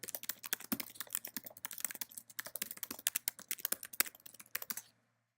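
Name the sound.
typing email address and password on computer keyboard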